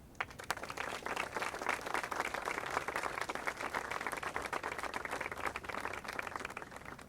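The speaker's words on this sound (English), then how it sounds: "please give a big round of applause to Eric." Audience applause for a speaker at the groundbreaking of the Divine Lorraine Hotel redevelopment in Philadelphia, steady dense clapping throughout, fairly faint and distant.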